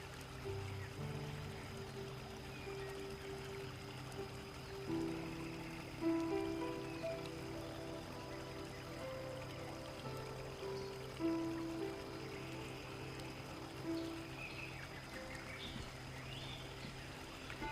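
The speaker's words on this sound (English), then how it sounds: "let me stop talking here for a moment so you can hear it" Amazon river rainforest ambience at a steady low level, a dense wash of insects and animals with sustained tonal calls and chirps layered over a constant hiss, with occasional slightly louder calls and no talking.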